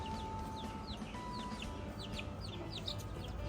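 Chickens cluck in a busy coop, with several short chirpy calls scattered over a steady low background rumble.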